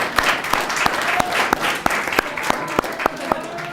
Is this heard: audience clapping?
yes